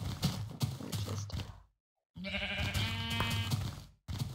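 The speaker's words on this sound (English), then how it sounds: "Oh, there's sheep." Sheep in the video game Minecraft bleat repeatedly in short, close, wavering cries, several calls in a row with brief silent gaps between them and no talking.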